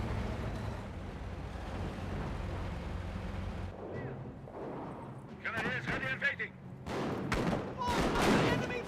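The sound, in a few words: explosions and gunfire from the video game Company of Heroes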